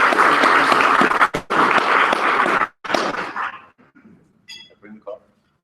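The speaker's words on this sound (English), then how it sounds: "I appreciate the applause." An audience at a talk on conflict and confidence applauds loudly and steadily for a few seconds, the clapping dropping out briefly and then fading as scattered claps give way to near silence.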